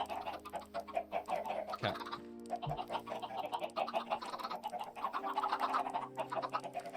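Minecraft chickens cluck in quick, busy bursts that go on throughout, fairly faint, with a steady game hum beneath and a brief spoken word.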